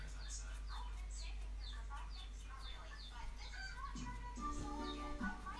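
Chickens cluck repeatedly at a moderate distance in an outdoor rural setting, with a rhythmic series of calls over steady background hum and a brief lower voice-like sound near the end.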